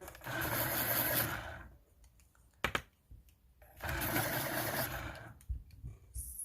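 Electric pencil sharpener grinding Prismacolor and Scholar colored pencils: two loud whirring bursts of a couple of seconds each, separated by a short quiet gap with a few clicks.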